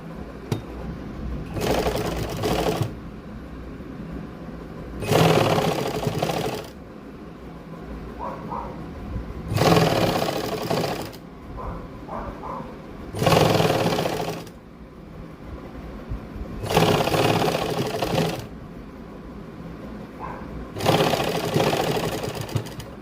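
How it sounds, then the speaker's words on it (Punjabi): Sewing machine stitching lace onto the edge of a sleeve, running in repeated short bursts of rapid mechanical stitching with quieter pauses between them, close and fairly loud. "ਲੈਸ ਦੀ ਕੰਨੀ ਕੰਨੀ ਤੇ ਸਲਾਈ ਲਾਵਾਂਗੇ"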